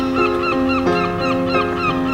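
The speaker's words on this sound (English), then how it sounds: "You can hear the seagulls." Seagulls calling over Scarborough harbour on the cold North Sea coast, a run of loud, near, harmonic cries with falling pitch, repeating every half second or so against steady background noise.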